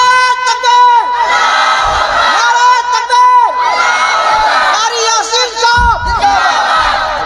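A crowd at a religious jalsa gathering chants the takbir response in unison, loud massed voices rising and falling in repeated call-and-answer waves, with shouted cheers in between.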